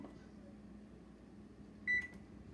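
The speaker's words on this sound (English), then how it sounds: "I'm going to set the oven here at 350 degrees Fahrenheit." A kitchen oven's control panel is set to 350 degrees Fahrenheit for baking, giving a short electronic beep near the end over a low background hum.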